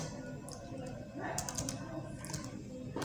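Network configuration commands being typed on a computer keyboard, a quiet patter of key clicks in short bursts under a low background hiss.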